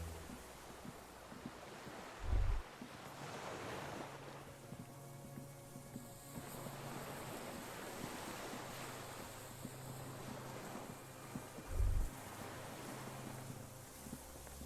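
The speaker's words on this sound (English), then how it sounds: "Distant sound of cargo ships. Signal horns echo on the water." Distant cargo ships with signal horns echoing across open water in the Disco Elysium game world, two brief low horn blasts far off over a steady wash of waves and wind.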